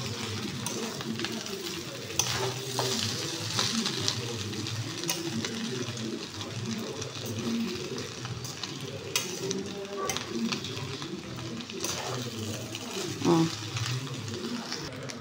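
Shavige vermicelli sizzles and fries in a pan while being stirred, with a steady crackle and frequent scraping strokes of the spoon throughout.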